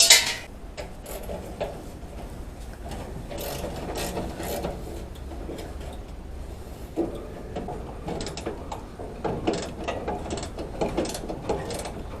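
Ratcheting and wrench clicks sound close by on the bolts of a Chevy C50 truck in a garage, in uneven bursts of rapid clicks and metallic clanks over a low background rumble.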